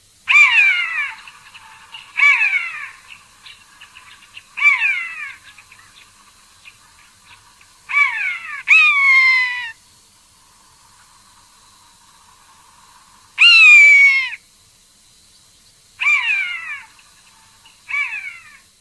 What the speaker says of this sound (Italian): Poiana comune.